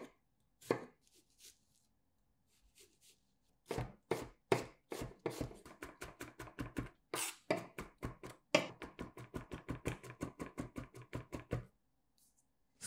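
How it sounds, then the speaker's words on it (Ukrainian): Peeled garlic is finely chopped with a knife on a cutting board, with sharp close knocks that start sparse and build into a fast, steady run of rapid chops before stopping. "Чеснок очистіть і дрібно порубайте, або натріть на дрібні терці"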